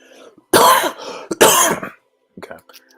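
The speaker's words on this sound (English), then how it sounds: "I've actually had a cough for the last couple of days and sometimes it pops out of nowhere." A person coughs two loud, harsh times in close succession, followed by a few fainter throat-clearing sounds nearby.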